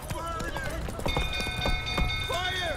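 Horse hooves clop in The Witcher 3 Wild Hunt, a quick irregular patter of hoofbeats close by, heard under someone talking, with a few bright tonal chimes.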